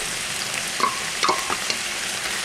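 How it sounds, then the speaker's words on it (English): Mushrooms going into a hot pan with cooking sausage give a steady frying hiss with a few soft scrapes and stirs, close and moderately loud, no talking. "We're going to go ahead and put the mushrooms in now."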